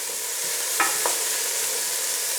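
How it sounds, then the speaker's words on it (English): Ox cheek beef stew stirred in a pan over medium heat, a steady sizzle with a couple of sharp spoon scrapes against the pan, close and alone. "Now let's give that all a good mix around."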